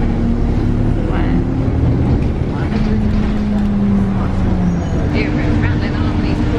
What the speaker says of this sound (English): You're rattling along these Cornish roads, aren't they?